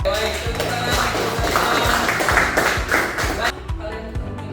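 Students in a classroom clap together, a run of sharp rhythmic hand claps over a brief stretch, mixed with background chatter and a teacher's voice before the claps fade out.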